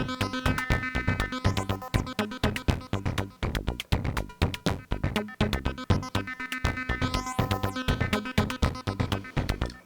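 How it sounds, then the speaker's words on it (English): Plaits synth voice passed through a Pico VCA whose CV mixes an LFO with a clock gate, giving a stuttering, rhythmic pulse that swells and fades across a busy modular beat, loud and continuous. "By mixing the LFO with the clock gate, you get a kind of like a stuttering that fades in and out"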